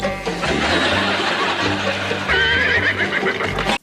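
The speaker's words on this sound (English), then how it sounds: "When in doubt, just put in a sound effect of a horse." A horse whinnies as an inserted sound effect, a loud, high, wavering neigh stretching across most of the moment with a dense layered backdrop beneath it.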